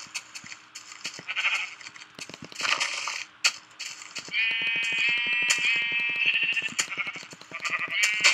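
Repeated sheep bleats in Minecraft as the sheep are hit, several animals calling in quick succession over a busy background of clicks and thuds.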